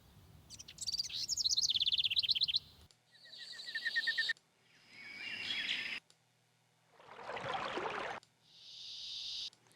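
Night jungle ambience from a sound library: bursts of chirping birdsong and buzzing insects alternate with short gaps, several layered calls near and loud, with one broad noisy insect-like rasp toward the end.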